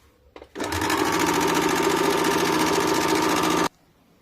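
A sewing machine runs in one steady, fast-stitching burst of about three seconds, sewing all the way around a loose plazo trouser. The burst opens with a short click, stops abruptly, and no one speaks over it.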